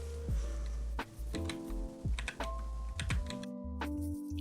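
Computer keyboard typing in bursts of close, crisp key presses with brief pauses between runs, as an international bank account code is entered for a wire transfer, with no voices.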